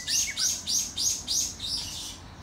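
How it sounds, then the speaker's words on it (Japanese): Small birds chirp in a rapid series of about five bright, repeated calls at Namako Pond on Koshiki Island in light rain, fairly close and clear over a soft background hiss with no talking. "あの辺に鳥がいます。"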